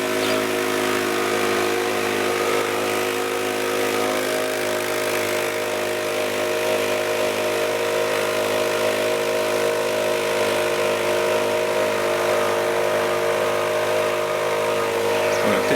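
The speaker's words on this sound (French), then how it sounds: "Ou alors le faire avec un souffleur." A leaf blower clears leaves while mulching in a garden, running as a loud, steady, close engine drone without pause, with no talking over it.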